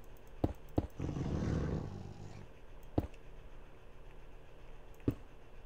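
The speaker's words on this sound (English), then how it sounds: "Oh, yeah, it's a dire wolf." A dire wolf from the Minecraft Ender Zoo mod growls in a rough, rumbling burst lasting about a second and a half, set between a few sharp clicks from the game, with no talking.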